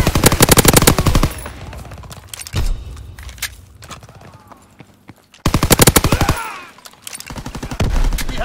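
Machine gun fire rattles in the Call of Duty WW2 video game, loud close bursts of rapid shots at the start and end with a quieter stretch of distant gunfire and battle noise between.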